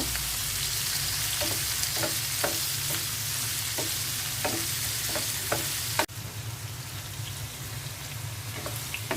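Shrimp sizzling in hot oil with turmeric and salt in a home kitchen, a steady crackling fry with scattered spatter pops and occasional stirring clicks, dropping slightly quieter partway through.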